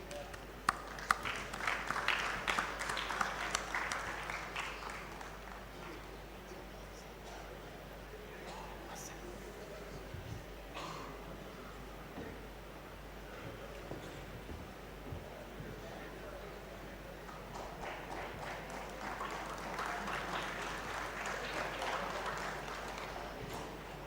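Faint applause at a university robotics competition ceremony in Sri Lanka swells at the start, thins to a murmur with some talk in the middle, then rises again toward the end, heard from a distance in a large hall.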